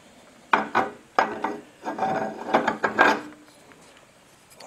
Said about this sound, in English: when I got to take just a little bit off, I like a file